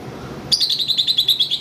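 Budgerigars, cockatiels and conures in a bird shop break into a rapid run of bright, high chirps, about ten quick calls in a steady rhythm, loud and close after a short quiet start.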